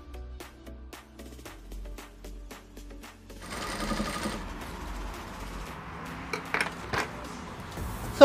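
A sewing machine stitches bias binding around a dress neckline, first with slow separate needle clicks, then a steady close whirring run with a few clinks near the end.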